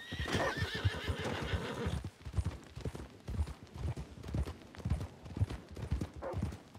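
Horse in the Red Dead Redemption video game gives a loud, close whinny at the start, followed by a steady clip-clop of hooves trotting on through the rest.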